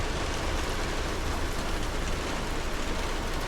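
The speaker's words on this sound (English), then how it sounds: "this rain is actually getting a lot worse. It is hammering down" Heavy rain pours down in a dense, steady roar in Blackpool, England, loud and unbroken throughout, with no voices.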